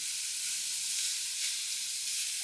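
Pork medallions fry in a hot pan with a steady, bright sizzle that stays close and even throughout, with no talking.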